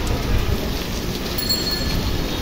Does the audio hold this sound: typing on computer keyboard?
no